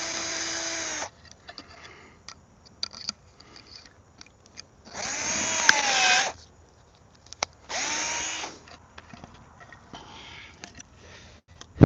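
A power drill bores a pilot hole while building a pull-up bar foundation: several short whining bursts with pauses, the longest in the middle, close and fairly loud with no talk.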